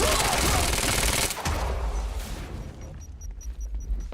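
Heavy automatic gunfire from a firefight in the video game Quantum Break: a dense, loud burst of shots for over a second, then rumbling echoes that fade under faint high electronic tones.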